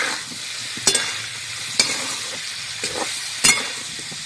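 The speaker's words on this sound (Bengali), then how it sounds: "হলুদ দিয়ে একটু নাড়িয়ে দেবো" Turmeric and salt get stirred into food frying in oil, steady close sizzle broken by several sharp clinks of a spoon against the pan, no talk.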